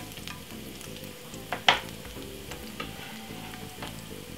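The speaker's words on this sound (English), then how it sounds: "Put in some oil, put in some garlic." Garlic sizzles in hot oil in a frying pan for a meat-free Quorn bolognese, a steady close crackle with a couple of sharper spits and clatters partway through, no talking.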